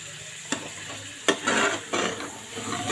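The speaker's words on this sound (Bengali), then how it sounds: "এখন আলু দিয়ে কষিয়ে নেব" Boiled potatoes sautéed and stirred into simmering beef curry with turmeric, salt and spices, giving a steady close sizzle broken by several sharp scrapes and knocks of a spoon against the pan.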